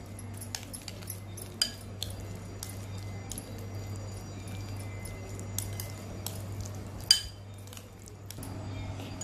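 A spoon stirs chopped capsicum, onion and cucumber in a bowl, giving soft scraping and intermittent clinks against the bowl, close and quiet over a low steady hum.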